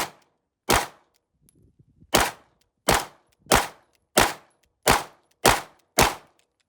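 An HK P30sk pistol fires cheap ammunition at a 5-yard range: eight sharp, loud shots, one alone and then seven in a steady, quick rhythm after a short pause with faint handling noise.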